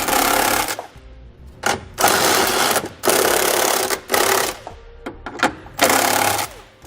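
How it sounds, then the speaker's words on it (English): A 19mm socket on a power ratchet tightens 1/2-inch bolts while a Curt trailer hitch receiver is installed on a 2019 Kia Sorento, giving loud, buzzing bursts of about a second each, repeated in quick succession with short pauses between. "we're going to go through, snug down all of our hardware, and then torque it to the specifications listed in your instructions"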